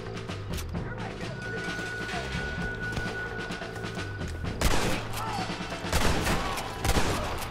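Gunfire rings out in a Red Dead Redemption shootout, a few sharp shots early then a denser burst of rapid cracks later, under music and a speaking voice.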